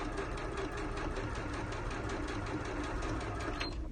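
Sewing machine running a straight stitch as fabric feeds through, a steady close mechanical whir with a fast, even pulse of needle strokes throughout, unbroken and without speech.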